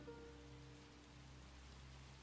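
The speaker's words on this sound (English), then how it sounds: "Rain started to fall." Steady rain falls in a soft, even hiss with faint patter, a quiet continuous wash under a low hum and no voices.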